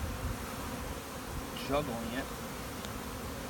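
Honey bees buzz around a warm, soft hive frame weighted down with bees, a steady low drone close by with a brief louder swell midway as the frame is lifted.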